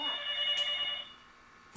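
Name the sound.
telephone ringing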